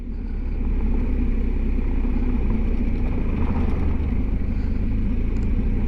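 A motorcycle rattles and shakes over a corrugated gravel road on the Carretera Austral, its engine giving a loud, steady, rumbling drone with constant juddering vibration throughout and no talk.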